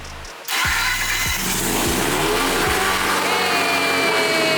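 A rotary-swapped Nissan S15 fires up abruptly and settles into a loud, steady, lumpy idle close by, with a few rhythmic pulses as it stabilises and no talking.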